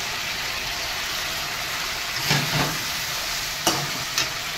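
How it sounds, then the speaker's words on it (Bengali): Ground spices and a little water going into a frying pan for a Bengali jackfruit dhoka, a steady hiss of frying with a few soft stirring scrapes, near and without speech. "একটুখানি অল্প করে জল দেবো, দিয়ে গুঁড়ো মশলাগুলো দেবো"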